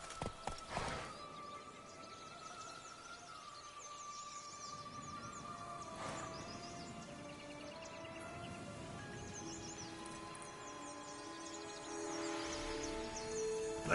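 Roach, the horse in The Witcher 3: Blood and Wine, moves with soft clip-clop hoofbeats alongside a clear neigh, while birdsong chirps in the background. No voices are heard.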